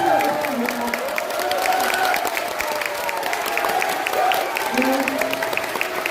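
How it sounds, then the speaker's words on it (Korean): An audience at a lecture in Daegu claps warmly and continuously, a dense, steady wash of applause filling the hall with a few scattered cheers. "다시 한번 큰 박수 부탁드립니다"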